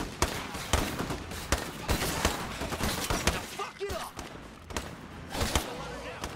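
A rapid string of sharp gunshots in the video game State of Decay 2, firing in quick uneven bursts at close range, with a voice talking between them.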